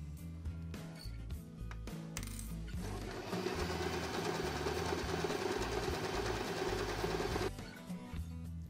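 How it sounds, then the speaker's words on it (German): A sewing machine stitches the sides of a fabric bag, starting with a few short bursts and then running in one steady, rapid whirring stretch before stopping, heard close and clear. "Zuletzt werden die beiden Seiten des Beutels zugenäht."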